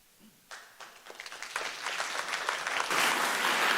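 Audience applause breaks out at a city council meeting in Half Moon Bay, starting with scattered claps and building into steady, loud clapping from the room for several seconds.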